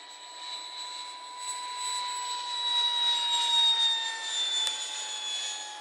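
A Hobbyking ViperJet RC model jet in flight produces a steady, high-pitched turbine whine that swells slightly as it passes, heard from a distance outdoors with no talk.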